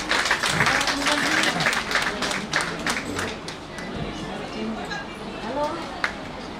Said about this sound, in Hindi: आप सभी से चाहूंगी तालियां आपके बजती रहनी चाहिए